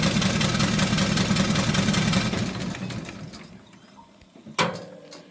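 Aveling & Porter H Type steam engine running with its steam chest drains shut, a loud steady mechanical chug for about three seconds that fades away, followed by a brief sharp knock near the end.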